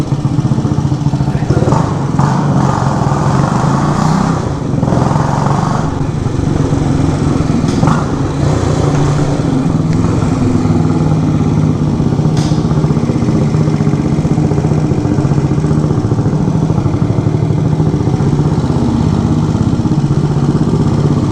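A 1967 Harley-Davidson H Sprint 250 motorcycle engine runs steadily and loudly throughout, a continuous close mechanical drone with brief rises in revs and no voices.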